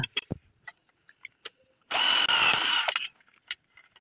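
An electric drill whirs loudly for about a second, close by, between scattered clicks and taps in an otherwise quiet room.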